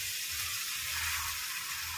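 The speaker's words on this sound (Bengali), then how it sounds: "আমি যে এই ময়দার পিঠাগুলো বানিয়ে রেখেছিলাম এগুলো এবার এর মধ্যে দিয়ে ভাজবো।" Flour dough pieces frying in spiced masala in a pan, giving a steady, even sizzle and hiss for the whole stretch, moderately quiet and close, with no talk.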